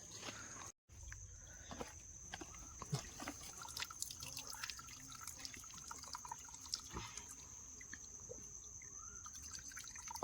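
Water trickling and dripping in a mountain stream on a misty Sahyadri trek, a faint, continuous liquid babble with scattered close drips.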